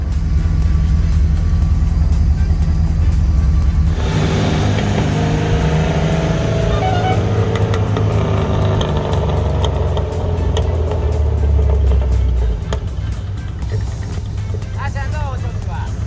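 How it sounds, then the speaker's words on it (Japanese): A classic Nissan Skyline Hakosuka or Toyota AE86 engine hums and rumbles steadily while driving, with people talking over the continuous road noise. "今日みたいな日に旧車乗る ことがもう最高だよね。"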